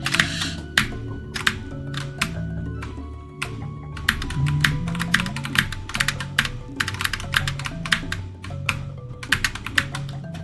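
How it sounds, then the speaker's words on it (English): Close, rapid clicking of a computer keyboard as someone types into a chat box, in irregular bursts and single taps over faint sustained background tones. "Well, it doesn't help that I'm typing in a chat box a lot of the time."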